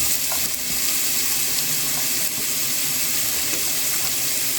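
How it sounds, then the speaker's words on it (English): Steady, loud sizzling of chopped onions frying in a hot pan, continuous hiss with faint crackles throughout. "can you hear the sizzle? I love it when I hear that sizzle."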